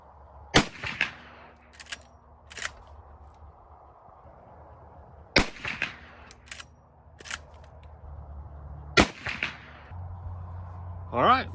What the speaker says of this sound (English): So anyway, we'll get some shooting done.